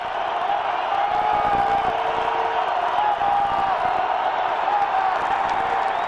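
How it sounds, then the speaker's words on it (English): A large, loud football stadium crowd at a 2009 NCAA FCS first-round playoff game cheers and roars continuously, the dense noise swelling at times with whoops and shouts mixed in. "Credit the crowd, Phil. Once again, when the crowd has needed to in big games. They go crazy"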